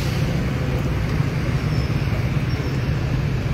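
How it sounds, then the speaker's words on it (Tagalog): A bus rumbles past in busy street traffic near Bihu Park, a dense, steady low engine roar mixed with general roadway noise. "Ayan po yung bus."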